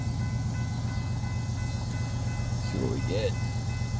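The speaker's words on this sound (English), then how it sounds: "This train's coming south out of St. Joe's, heading towards Kansas City." A southbound train rumbles past close by on a single-track main line near St. Joseph, Missouri, a heavy continuous roar of wheels and engine while someone speaks briefly over it.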